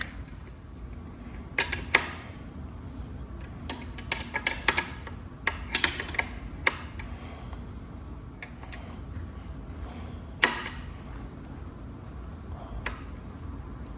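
Metal clicks and ratcheting taps come from a wrench tightening a bolt on the rear wheel of a Rattan LF/LM750 Pro e-bike, in short uneven bursts separated by quiet pauses.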